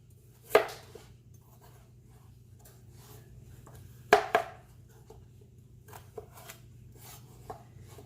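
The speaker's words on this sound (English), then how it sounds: "And then we want to cut it into nice big wedges." A knife cuts a sweet potato into large wedges on a board, with two sharp chopping strikes several seconds apart followed by softer, lighter taps and scrapes, close and without talk.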